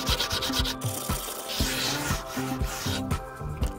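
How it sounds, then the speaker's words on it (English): Sandpaper rubbed over cut wood edges during a van build, making rhythmic close scratchy strokes, several quick back-and-forth passes with no talking. "now I'll just take and I'll sand down those edges right there"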